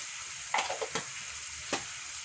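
Chopped chicken with turmeric powder sizzles faintly in a pan, and a few brief scraping stirs of a utensil break through the quiet frying hiss.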